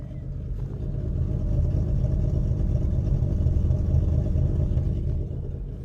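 A BMW 325i E30 engine runs through a stainless steel exhaust built to the original layout, giving a steady, loud low rumble that swells after the first half second and holds close and continuous with no talk.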